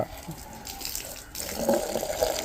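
Water pours and splashes steadily onto a hard surface, growing louder partway through, with no voices.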